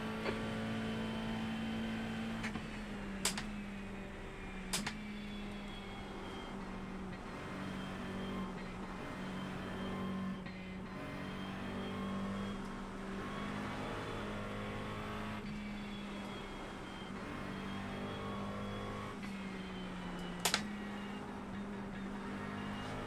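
A GT race car engine at Le Mans in the iRacing sim drones steadily and faintly, with a few brief sharp spikes breaking the even, continuous tone.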